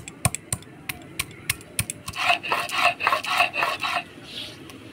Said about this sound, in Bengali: এবার লাউ চিংড়ির জন্য আদা আর ভাজা মশলাগুলো বাইটে নেব